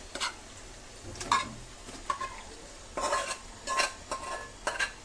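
Chicken pieces added to softened onion and tomato in a pan in a small kitchen, stirred with a utensil in intermittent clanking scrapes over a faint sizzle, no speech.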